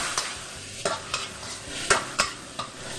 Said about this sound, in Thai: แล้วก็คลุกเคล้าให้เข้ากันค่ะ